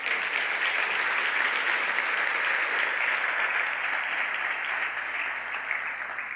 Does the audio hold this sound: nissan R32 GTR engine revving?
no